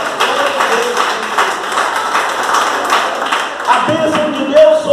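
Church congregation clapping hands together in praise, a dense, steady patter of many claps filling the room, with voices mixed in beneath.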